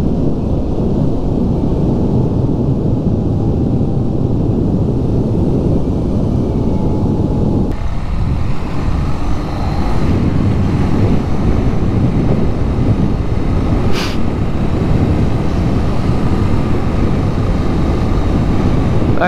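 BMW R nineT motorcycle, 219 kg, ridden along country roads in the Chevreuse valley: a loud, continuous engine drone mixed with heavy wind roar, shifting in tone midway as the bike changes pace.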